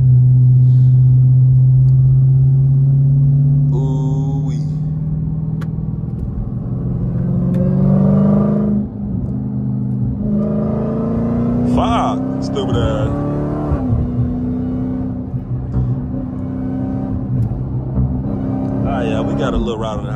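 A Dodge Hellcat drives on a highway, its engine a steady low rumble close by that rises and falls slightly as it accelerates, with someone talking over it throughout.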